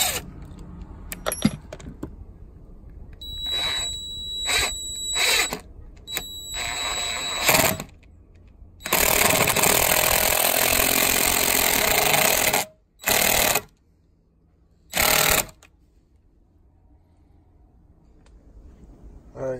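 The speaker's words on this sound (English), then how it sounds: "I'm gonna screw in, put some screws in this post." Screws being driven into a wooden garden gate post with a power drill, heard as several separate bursts of whirring drive, some short and one long sustained run, with clicks and handling knocks between them and no talking.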